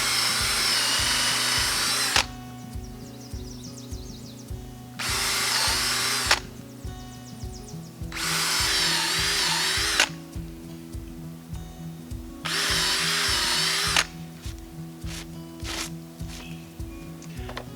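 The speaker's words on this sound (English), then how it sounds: "First thing we're going to do is drill some holes" A power drill bores holes about an inch deep into a log for shiitake mushroom dowels, in four loud whining bursts of about two seconds each, separated by quieter pauses with handling clicks.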